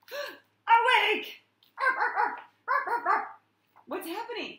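A voice imitates a dog barking, giving five separate bark-like yelps with short pauses between them, close and clear.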